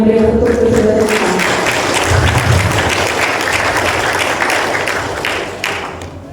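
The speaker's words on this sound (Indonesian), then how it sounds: "Mari kawan-kawan kita berikan tepuk tangan yang berikan untuk saudara kita." Audience applause at a law faculty graduation ceremony, with sustained dense clapping filling the hall at an even level and tapering slightly toward the end.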